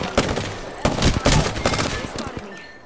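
Short bursts of rapid gunfire in the shooter Apex Legends, several sharp volleys in close succession that trail off, with a faint voice underneath.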